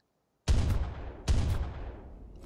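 Two loud, booming gunshots in the video game ARK: Survival Evolved, about a second apart, each with a sharp attack and a long rumbling decay, after a moment of silence.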